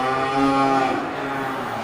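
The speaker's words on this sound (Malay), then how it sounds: "ini di lapak bagian bawah ini standby sapi-sapi Aceh mini" Aceh mini cattle at an animal market, a single close, loud, drawn-out moo that rises then tapers off over about two seconds.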